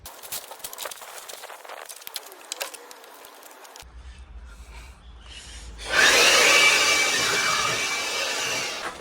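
Cutting holes into a carpet floor mat inside a Toyota Land Cruiser 75 Series. Soft scraping and rubbing comes first, then a quiet pause, then a sustained, louder rasping cut that slowly fades.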